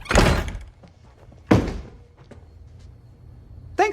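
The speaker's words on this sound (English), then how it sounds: "Shut the front door." A front door slams shut during a tense action-film scene, one heavy thud followed by a second, then lighter knocks and a sharp final bang.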